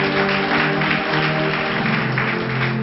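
An audience claps together in a steady, dense burst of applause that carries through a sustained tonal background hum.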